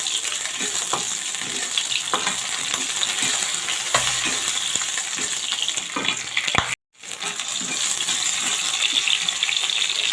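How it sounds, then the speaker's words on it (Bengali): Oil sizzles and crackles steadily in a wok (kadai) throughout, with small pops and a brief dropout near the end, no talking. "এই যে আমি এখানে একটা কড়াইতে সামনে তেল দিয়ে বসিয়ে দিয়েছি। তার মধ্যে আমি এখন ভালোভাবে ভেজে নেব।"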